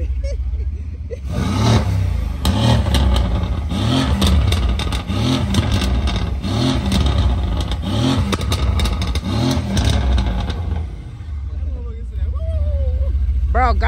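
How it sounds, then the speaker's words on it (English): At a crowded park car meet, a car engine is revved hard in repeated rising-and-falling bursts, loud and close, before dropping back to a rumbling idle, with people talking around it. "Rev that hoe, rev it!"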